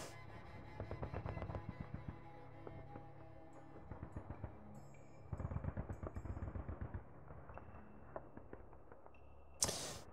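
Minigun fire from a Cobra attack helicopter in the JTS Fulda Gap 85 wargame, several rapid rattling bursts of sharp repeated shots, fairly quiet with gaps between them, ending in one louder crack.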